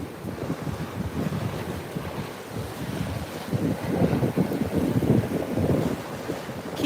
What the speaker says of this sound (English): there's a sandbar right there where the waves are breaking.